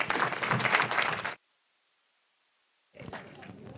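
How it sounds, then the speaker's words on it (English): Audience at a welcoming ceremony for repatriated Batswana of Namibian descent breaks into a loud round of applause mixed with voices, which cuts off into silence before clapping and chatter return more quietly. "Can we kindly give her another round of applause?"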